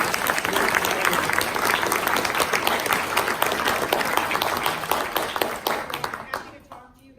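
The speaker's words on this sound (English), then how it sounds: "I just want to give a round of applause to Sergeant Varga, who's amazing." Audience applause at an active shooter preparedness police forum, a dense, loud burst of clapping from a crowd that carries on steadily and then tapers off at the end.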